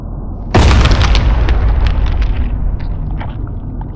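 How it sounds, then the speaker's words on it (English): A firecracker blows apart an egg in one sharp, loud bang, followed by a few seconds of rumbling, crackling debris and faint rattles. "just enough for me to fit a firecracker in there. And then I just lit it and blew it up."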